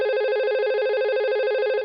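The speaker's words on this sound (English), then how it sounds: "it's actually ringing on the other phone at the moment" A desk phone rings from an internal call between two office IP phones, a steady electronic ringtone with a sustained warbling tone, loud and close, heard alone for under two seconds.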